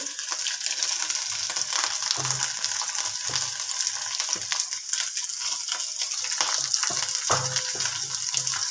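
Vegetables sizzle loudly in hot tempering oil with a constant crackling hiss, broken by occasional stirring and scraping sounds close up.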